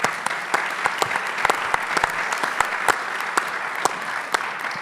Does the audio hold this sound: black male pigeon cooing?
no